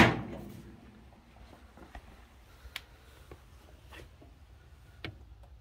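Car door of a YB-powered Mk1 Escort with a roll cage being popped open: a sharp latch clunk at the start, then faint light clicks and rattles close by.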